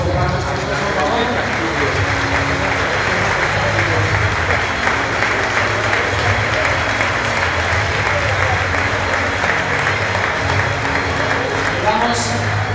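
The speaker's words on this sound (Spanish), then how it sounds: "Un aplauso fuerte para los artistas, por favor." Steady audience applause fills the hall at an awards gala for a Marina Alta running circuit, loud and continuous throughout, with a low music or voice bed underneath.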